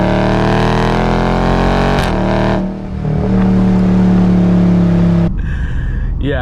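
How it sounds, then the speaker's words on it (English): A Dodge Charger Scat Pack Widebody in eco mode accelerates loudly nearby, its engine note climbing through the gears before dropping off near the end. "So let's give it an acceleration with eco mode."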